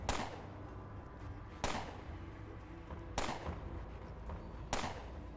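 Four sharp, distant blasts from grenades in the game Underrail, evenly spaced about a second and a half apart, each with a short decaying tail over a faint background.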